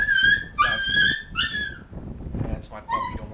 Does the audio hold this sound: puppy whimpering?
yes